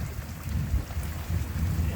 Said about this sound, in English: So this is the storm we were expecting today